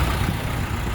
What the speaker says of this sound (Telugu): మీకు బానెట్ లేపి ఇంజన్ సౌండ్ కూడా చూపిస్తా చూడండి